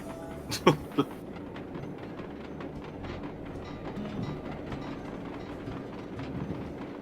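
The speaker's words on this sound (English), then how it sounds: "The train actually moves fast enough for you to reach locations if you're in a pinch or something." A train in the video game Sly 2: Band of Thieves rolls steadily along its rails with a soft, continuous rumble and faint rhythmic clicking, after two brief sharp knocks near the start, quiet and without talk.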